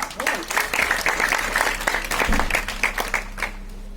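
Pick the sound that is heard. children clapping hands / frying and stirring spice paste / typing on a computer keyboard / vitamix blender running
children clapping hands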